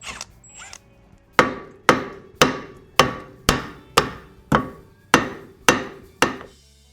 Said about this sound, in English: get some brute force, get that hammer on it to get this disc off